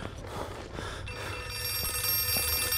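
A telephone rings in a dark, tense horror setting in the game Outlast 2, its bell repeating under a low ambient drone, fairly close and clear.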